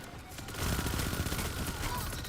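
Rapid, dense SMG gunfire in the Destiny 2 video game rattles continuously for a couple of seconds, loud and steady with no talking over it.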